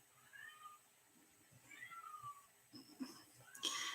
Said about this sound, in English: You guys, do you hear that? That's my cat.